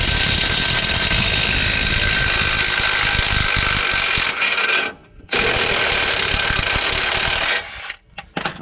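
An impact wrench works on a 19 mm lower rear shock bolt of a 2005-2012 Nissan Pathfinder, a loud continuous rattling whir running for several seconds, cutting out briefly, then resuming before stopping in short bursts.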